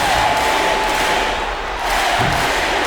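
Crowd in the NBA 2K25 basketball video game cheering and roaring during a Hornets at Pacers playoff game, a dense continuous swell of arena noise with a few thuds.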